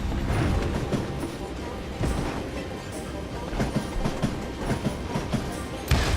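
A train rolls along rails in a Wild West shooter game, its wheels giving a steady clickety-clack rumble with sharper periodic knocks over a continuous low roar.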